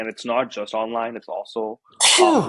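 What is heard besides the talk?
sneeze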